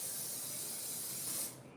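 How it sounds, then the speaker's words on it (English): A steady, close hiss of cooking spray coats a baking pan in a home kitchen, holding for about a second and a half before cutting off. "So I'm going to spray this."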